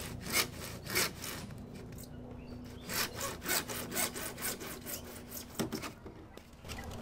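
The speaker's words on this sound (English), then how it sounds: "Then, just gently let the saw do the work." A hand saw cutting through PVC pipe, with a rhythmic run of back-and-forth rasping strokes, fairly quiet and close, that pauses briefly before the strokes resume.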